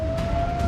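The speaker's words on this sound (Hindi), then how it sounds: "इजराइल में लगातार सायरन बज रहे थे और सायरन की आवाज के साथ ही मिसाइल के धमाकों की" An air raid siren wails in Israel during a missile attack, a steady sustained tone over low rumbling background noise in a very short burst.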